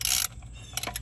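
A ratchet works on transmission bolts of a Honda Civic, giving a short burst of metallic clicking followed by a few faint clicks, close and quiet.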